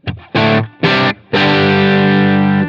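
An overdriven electric guitar through a Line 6 Helix amp model, with delay and reverb switched off, plays three short, loud distorted chord stabs and then lets a final chord ring out and sustain.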